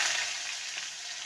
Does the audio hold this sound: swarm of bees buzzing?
no